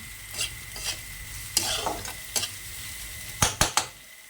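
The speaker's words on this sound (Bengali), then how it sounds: "এবার এর সঙ্গে আস্তে আস্তে ভাজা হলে তেজপাতাটা সুন্দর গন্ধটা থাকবে" Onion and bay leaf fry in oil under a soft, constant sizzle, while a spoon scrapes and clatters against the pan in several separate strokes, with a quick burst of stirring near the end.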